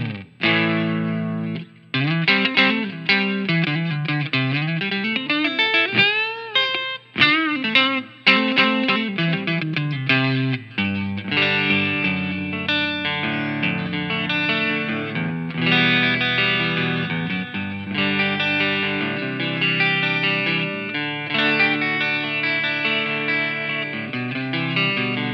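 Stratocaster electric guitar through a clean preset on a Line 6 POD Go, played alone with chords, bends and single-note runs, bright and reverberant with effects trails, steady and fairly loud throughout.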